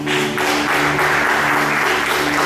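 A church congregation applauds, a dense, continuous burst of clapping from many hands that stays loud and even for the whole stretch.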